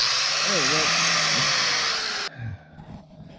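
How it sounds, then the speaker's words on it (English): A solar-powered angle grinder runs loud and steady with a high whine for about two seconds, then cuts out, leaving quieter clatter and a brief voice while working on a leaf spring hanger. "You ever seen a solar powered angle grinder before?"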